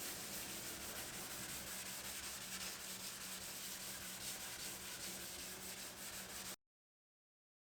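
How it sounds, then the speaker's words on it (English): Wet sanding of primer on a Toyota RAV4 car body panel with a sanding block: a steady, close, continuous rubbing rasp for about six and a half seconds, then it stops abruptly into silence. "So when that's all done, I'll start wet sanding our primer."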